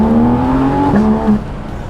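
Six-cylinder engine of a Porsche 911 GT3 RS revving close and loud, a strong tone that climbs and dips in a short burst before settling lower.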